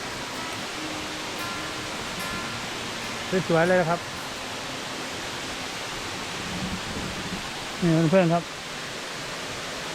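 A waterfall stream flowing down behind a temple gives a constant, even rushing wash. Someone speaks briefly twice over it.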